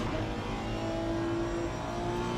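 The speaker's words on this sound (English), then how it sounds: "Let's get on board with that Honda. That's an interesting car, interesting sound." Honda GT3 race car engine in a racing video game at Brands Hatch: a steady, sustained engine drone with a high whining tone, loud and continuous, with no speech over it.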